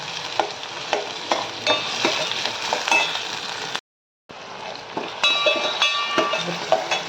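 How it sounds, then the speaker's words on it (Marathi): Tomatoes sizzle in a pan while being stirred for a Malvani-style dried shark dish, with bright, close frying crackle and frequent spatula scrapes, one brief silent gap partway through and no talking. "टोमॅटो टाकलं आता टोमॅटो दोन मिनटं परतून घ्यायचं"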